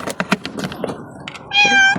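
A pet cat meows near the end of a short outing to an animal clinic, one clear drawn-out meow following a few soft knocks and thumps.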